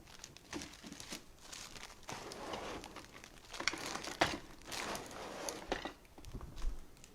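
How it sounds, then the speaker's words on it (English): Tinsel mesh for a Christmas wreath being handled and cut with a rotary cutter on a cutting mat, giving continuous soft crinkling and rustling with brief crisp bursts throughout, close and moderately quiet, no talking. "So first things first, let's cut our mesh."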